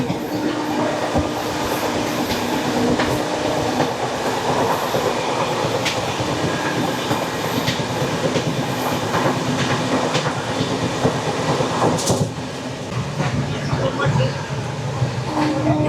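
Kanchenjunga Express passenger train rolling past at close range, a steady loud rumble with wheel clatter throughout and a brief sharp squeal or horn-like burst near the end.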